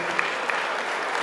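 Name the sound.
wedding guests applauding Sammy and her dad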